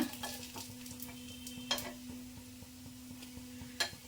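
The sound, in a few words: paddu frying in a pan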